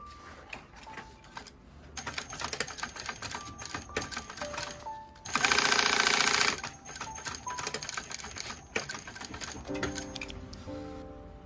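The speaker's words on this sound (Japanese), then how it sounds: "これとこれを合わせて端から6ミリで縫い合わせていきます。" A compound-feed sewing machine stitches two pieces of fabric together for bag-making, giving a steady mechanical patter with ticking clicks, then a dense whirring burst partway through before it returns to slower stitching.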